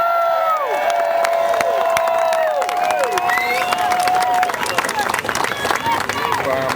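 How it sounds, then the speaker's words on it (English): An outdoor political rally crowd claps and cheers steadily, with whoops and shouts rising over the din, loud and close throughout. "Give yourself a hand of applause."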